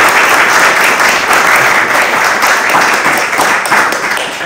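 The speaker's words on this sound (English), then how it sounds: "Everyone, let's give George a round of applause." A dense, loud round of applause from an audience after an art presentation, many hands clapping steadily and continuously without a break.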